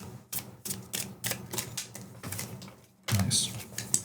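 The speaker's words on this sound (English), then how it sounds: "We just need to shuffle the deck" A deck of playing cards is shuffled close up, with a rapid series of crisp riffling bursts in an uneven rhythm, quiet overall, ending in a louder flurry of shuffling.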